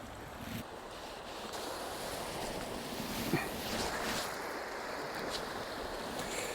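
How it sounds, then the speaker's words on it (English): Fast-flowing river rapids on a salmon and sea trout river, a steady broadband rush of turbulent water with wind buffeting the microphone, continuous and fairly close with no talking. "so I'm into the rapids, the very fast water."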